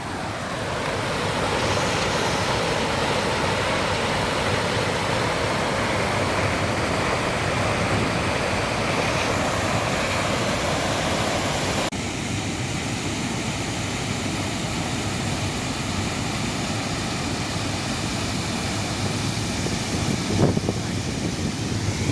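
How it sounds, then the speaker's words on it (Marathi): Floodwater after heavy rain pours over a submerged weir in Maharashtra, a loud, steady, broadband roar that continues unbroken throughout with no letup. "पाणी फ्लो कसला आहे बघा पाण्याचा"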